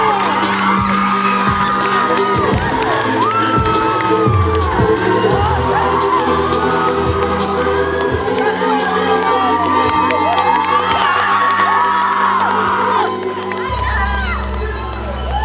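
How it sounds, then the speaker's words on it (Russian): A loud crowd at a university Mister pageant contest cheers, whoops and claps continuously, children shouting among them, with music playing under the roar throughout. "Ваши громкие аплодисменты."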